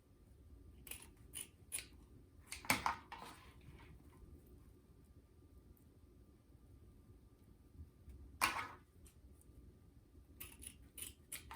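Scissors cutting ribbon tails for a Christmas tree topper bow make a few quick, crisp snips in a cluster, another single cut after a pause, then a final short run of snips in a quiet room.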